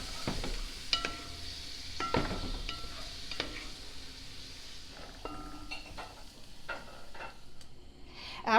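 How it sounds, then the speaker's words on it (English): Chopped onions sautéing in a pan for a pot roast, a soft steady sizzle broken by several sharp spoon clinks and scrapes against the pan, no talking. "I'm going to saute these onions for probably about 2 minutes, 2 to 3, until they're translucent and kind of softer"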